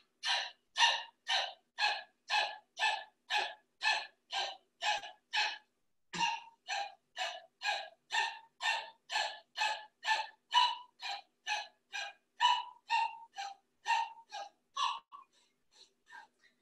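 About thirty rapid, forceful nasal exhalations follow one another in an even rhythm during an advanced yoga breathing exercise, close and clear, with a brief pause partway through and the puffs growing softer at the end.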